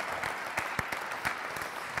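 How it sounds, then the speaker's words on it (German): Audience applause for a keynote at a corporate startup award event, a steady, fairly faint wash of many hands clapping, with a few sharper claps standing out. "Ich denke, ihr habt einen großen Applaus verdient."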